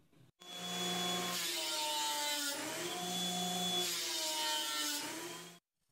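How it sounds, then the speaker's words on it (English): A Craftsman thickness planer with its extension wings fitted feeds a wood board through, a loud steady whining drone that rises as the cutter bites, holds, and then cuts off abruptly. "Now you can see I put the wings back on the planer. I'm going to run this through again"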